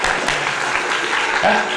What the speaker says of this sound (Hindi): मैं आपके लिए ताली बजाता हूं।